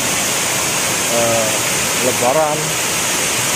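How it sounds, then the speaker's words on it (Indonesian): The Cughup Buluh waterfall in Lahat, about 100 metres high, roars as a steady, loud rush of falling water, with a brief spoken word over it. "jadi air terjun itu sangat tinggi, sekitar 100 meter guys."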